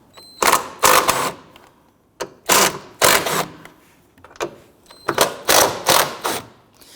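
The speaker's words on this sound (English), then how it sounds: "On the top here, let's go ahead and loosen the 13mm nuts." Ratchet loosening the 13mm top strut mount nuts on a 2011-2023 Dodge Charger front strut, heard as close, loud bursts of rapid clicking in about six separate pulls with short pauses between.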